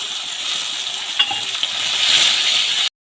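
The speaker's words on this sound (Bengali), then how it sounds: "হলুদ গুঁড়ো, লঙ্কা গুঁড়ো, পরিমাণ মতো চিনি, হালকা জল দিয়ে এবার আমরা মশলাটাকে কষিয়ে নেব।" A spice paste of turmeric, chili powder, sugar and a splash of water sizzling and bubbling in a pan for jackfruit kofta curry, a steady close hiss with a few small pops before cutting off abruptly.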